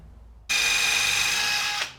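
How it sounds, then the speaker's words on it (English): A power drill fitted with a countersink bit runs for about a second and a half at a steady high whine, close and loud, starting abruptly and winding down at the end with no talking. "Grab a drill with a countersink bit on it."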